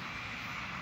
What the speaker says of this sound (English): here comes the Blue Angel RC plane. It's really nice to fly this